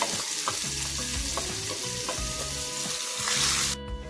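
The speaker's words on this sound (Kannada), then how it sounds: "ಈಗ ಇದನ್ನೆಲ್ಲ ನಾವು ಮೀಡಿಯಂ ಉರಿಯಲ್ಲೇ ಈರುಳ್ಳಿ ಲೈಟ್ ಗೋಲ್ಡನ್ ಕಲರ್ ಬರೋ ತನಕನೂ ಫ್ರೈ ಮಾಡಬೇಕು." Three chopped medium onions fry over medium heat in a pan for butter paneer masala, with loud continuous sizzling and repeated scraping stirs, no voices.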